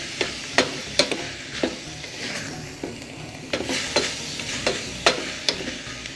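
Grated coconut frying with carrots for a carrot sambal in a pan, a steady close sizzle broken by sharp scraping stirs and clinks of a spoon at irregular intervals.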